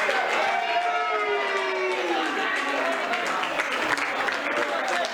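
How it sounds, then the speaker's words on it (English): An audience applauds at the final of the TAOM Shootout 2019 pool event, a steady wash of clapping with crowd noise and an announcer's voice over it, heard from moderately far. "A big round of applause,"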